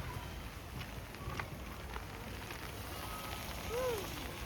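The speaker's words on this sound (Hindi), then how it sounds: "बारिश कंटिन्यू हो रही है" Steady rain falls outdoors as a soft, even patter of fairly faint drops that continues throughout with no break.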